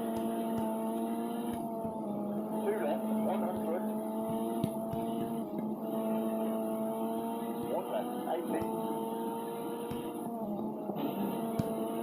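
Rally car engine from the Rush Rally 3 video game, a steady droning whine with shifting harmonic tones held throughout, with a voice talking over it.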